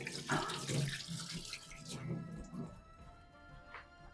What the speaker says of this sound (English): I'll rinse my hands because they're covered in flipping wort